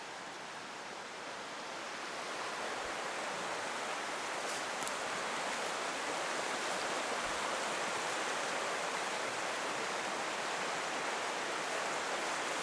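Water from a creek in the Northwest Territories flows steadily nearby as a broad, constant rushing wash that swells slightly in the first couple of seconds and then holds even, with no voices.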